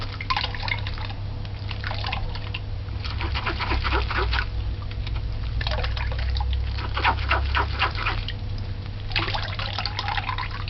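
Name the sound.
stirring and squeezing June plum juice by hand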